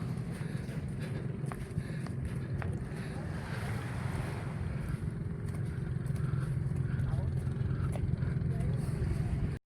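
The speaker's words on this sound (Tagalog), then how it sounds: "Yung mga bangka dumadating na." Boat engines drone as boats arrive at the shore of Mararison Island, Culasi, Antique, with waves and gusty wind buffeting the microphone, under occasional talk.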